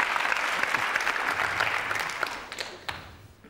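Studio audience applause on a French television entertainment show, a dense burst of clapping that stays loud for about two seconds and then gradually thins and fades.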